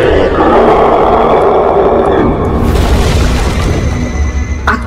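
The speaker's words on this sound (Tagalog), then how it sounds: "At sumabog ang napakalakas na bulang apoy." A massive fireball explosion in a fantasy audio drama: a loud, sustained roaring blast that fills the whole clip, dense and rumbling, with a burst of crackling debris near the end.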